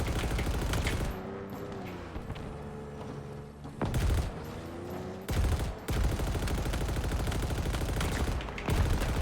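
Gunfire in the shooter game Halo Infinite: sustained loud automatic bursts and rapid shots crowd the mix, broken by a few sharp booming blasts, with continuous battle noise throughout.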